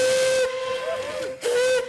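A steam locomotive whistle blows in two long, loud, steady blasts with a brief gap between them, heard close with a hiss of steam during a campaign stop.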